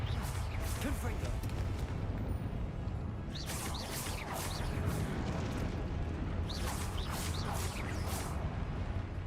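Confringo fire spell cast in Hogwarts Legacy combat: bursts of blasting, whooshing impacts over a constant rumbling battle bed, with the loudest crackling flares around the middle and near the end, and shouted spell names from a voice in between.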